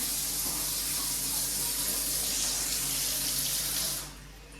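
Water pours in a steady, close rushing stream into a clay matka pot, holding at even strength before tapering off abruptly near the end; no one speaks.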